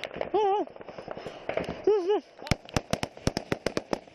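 Gunfire erupts during an armed clash between Syrian opposition fighters and regime soldiers on Turkmen Mountain in Syria: shouted voices first, then a rapid string of sharp, loud, close cracks in quick irregular succession.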